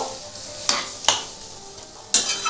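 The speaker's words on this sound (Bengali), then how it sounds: "এই স্টকটা আমি দিয়ে দেবো" Mutton stock poured into a sizzling mutton curry in the pan: a steady close hiss broken by three sharp bursts of stirring and spattering, no voices.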